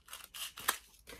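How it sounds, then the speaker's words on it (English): Scissors snipping crepe paper into petals for a paper zinnia, a few quick close cuts with a crisp metallic click, quiet and isolated. "I'm gonna cut these."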